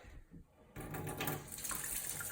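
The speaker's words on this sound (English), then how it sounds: "It's already wet to begin with, but I still rinse it out a little bit." Tap water runs over a paint brush used with acrylic paint as it is rinsed. The flow starts softly, then swells into a louder, close, steady splash at a sink, with no speech.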